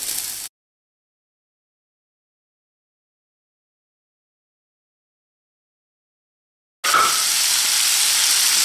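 Garlic sizzling in a pan after a long silent gap, a sudden close hiss that returns and holds steady.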